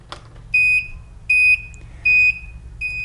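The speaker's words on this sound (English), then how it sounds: "So if you hear your scooter screaming at you like this, giving a 5-beep code, that means we're in neutral." Loud, high electronic beeps from a mobility scooter repeat in a steady 5-beep code signalling neutral, each about a quarter second long, spaced evenly with short gaps, over a faint low hum.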